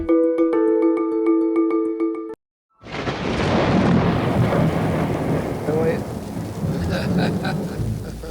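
Thunder rumbles loudly and rain pours steadily for several seconds in a storm, broad and close, following a brief musical passage and a short silence.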